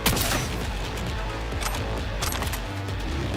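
Rapid bursts of gunfire from a firefight in Cyberpunk 2077, loud and continuous for several seconds with sharp, dense shots layered over each other and no talk.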